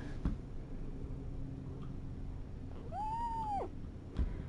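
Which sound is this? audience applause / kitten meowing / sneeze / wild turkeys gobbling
kitten meowing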